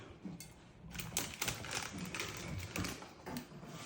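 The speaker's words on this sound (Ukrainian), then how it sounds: "І в банки кидаємо приправи по лавровому листочку, потім перчик." Bay leaves and peppercorns drop into glass jars one by one, giving a quiet run of light, irregular clicks and taps with no voices.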